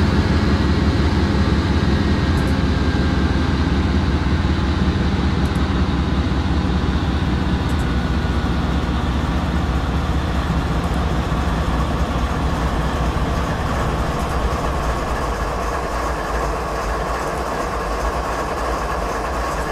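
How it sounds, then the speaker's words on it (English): A train coasting uphill on a Canadian mountain pass with power cut, giving a steady close rumble with faint rhythmic wheel clatter and no engine surge. "Might cut the power, see if we can't. We'll let the train glide up the rest of that bit of the hill."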